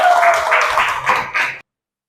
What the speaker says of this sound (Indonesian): Kita tepuk tangan buat kalian semua.